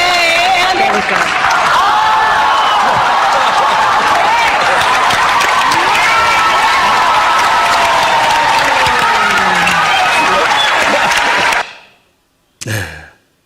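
Dense audience applause mixed with cheering and crowd voices fills a hall, loud and sustained, then cuts off abruptly before a brief burst.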